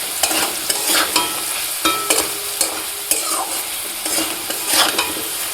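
Potatoes fried with salt and turmeric are stirred in a pan, giving a loud close sizzle broken by repeated rhythmic scrapes and clacks of the spatula, with no voices.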